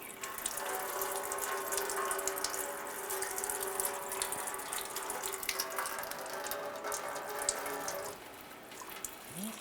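AC coolant drains steadily from a 2007-2012 Nissan Versa into a drain bucket, a continuous close trickling and splashing with faint mechanical rattles underneath.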